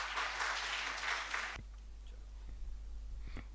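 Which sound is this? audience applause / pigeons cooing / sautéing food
audience applause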